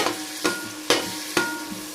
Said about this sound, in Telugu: ఇది బ్రౌన్ కలర్లో ఉల్లిపాయ వేగిందండి